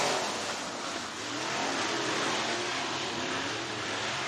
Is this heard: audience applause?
no